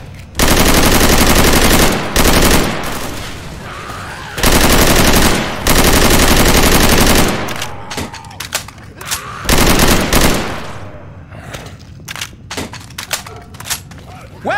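Rifle gunfire in Left 4 Dead 2, loud rapid automatic bursts in long stretches broken by short pauses, with scattered single shots and thuds trailing off toward the end.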